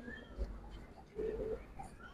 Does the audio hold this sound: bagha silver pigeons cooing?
yes